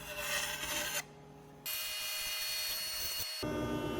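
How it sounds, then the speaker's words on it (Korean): Sandpaper rubbing on a wooden surfboard fin in a few long rasping passes with short breaks between them, close by, over a faint steady hum. "밑면 옆면, 사포로 깔끔하게 다듬어줘요"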